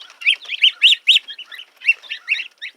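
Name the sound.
baby geese, ducklings and Orpington chicks chirping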